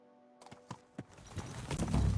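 In the video game Kingdom Come Deliverance II, horse hooves clip-clop in a few distinct steps, close and moderately loud, before a rising rush of wind and movement noise takes over.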